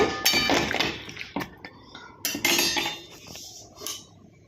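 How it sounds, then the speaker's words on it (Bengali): A metal spoon scrapes and clinks against a pan in irregular bursts, close by, with a few sharper knocks between the stirring strokes, stirring bottle gourd leaves. "তো ভালো করে নেড়ে চেড়ে"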